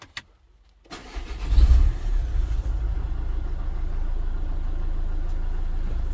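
A Renault Scenic 2 with a power fault cranks and catches after a short silence, then settles into a steady, close engine idle that continues to the end.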